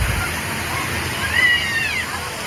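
Water pours down and splashes steadily at a water park, a continuous rushing wash with voices faintly mixed in underneath.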